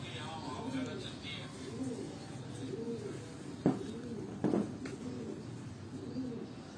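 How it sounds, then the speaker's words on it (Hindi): Pigeons coo softly and steadily in a repeating rolling pattern, each call about a second apart, with someone talking over them and a couple of brief sharp knocks. "ये सारे प्रवासी कबूतर हैं दोस्तों"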